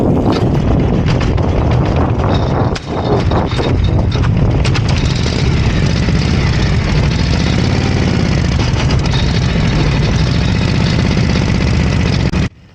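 A 1936–1947 Harley-Davidson Knucklehead with a 61 cubic inch engine runs in third gear, giving a loud, steady, close engine drone that continues almost without a break and then cuts off at the end.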